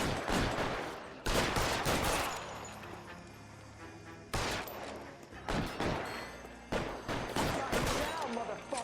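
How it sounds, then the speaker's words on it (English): Gunfire in a shootout in the game LA Noire comes as several loud, sharp bursts of shots, with quieter stretches of game sound between them. "Always turns into a shootout."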